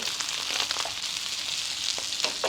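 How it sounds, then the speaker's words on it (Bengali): Small fish frying crispy in oil over slow heat, a dense, steady sizzle with soft bubbling pops, close and unbroken. "এইভাবে স্লো হিটে মাছটা এক পাশ পরিপূর্ণভাবে ক্রিস্পি ফ্রাই করে নিতে হবে"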